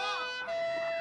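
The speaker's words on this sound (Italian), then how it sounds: "È la sirena." A police siren wails in a 1993 Italian comedy film, a brief bright wavering tone with rising and falling pitch, fairly close and heard alone.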